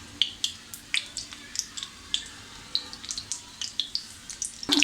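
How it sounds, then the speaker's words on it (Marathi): Parsi-style chicken cutlets shallow-fry in oil on a medium flame, giving off sharp, irregular sizzling pops and crackles over a soft, steady hiss. "आता आपण त्याला मीडियम गॅस करायचा आहे आणि आपल्याला छान असे दोन्ही बाजूनी खरपूस भाजून घ्यायचे आहेत"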